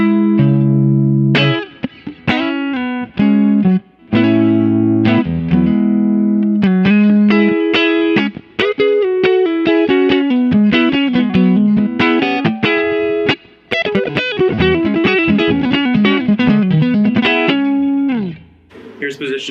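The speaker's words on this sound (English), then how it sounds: "So I'm gonna start off with just some neck tones, all right?" Bright single-coil neck pickup tones from a 2013 Fender SRV Stratocaster electric guitar, played as a steady run of picked notes, chords and bends with a touch of effects, loud and close with no talking.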